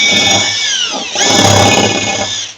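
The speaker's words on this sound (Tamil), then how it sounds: "இப்போ இதுக்கு வந்து மெலிசா கிரைண்டிங் பண்ணுறதுக்கு இப்போ வந்து இதை வந்து யூஸ் பண்ணிக்கலாம்" Power tool grinding a small steel angle, a loud, close, continuous high whine that dips briefly in pitch partway through as it bites into the metal, with no talking.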